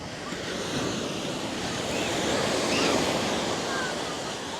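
Waves and surf wash continuously onto Royal Beach at Atlantis in the Bahamas, a broad, steady roar of breaking water with some wind noise and no clear talk.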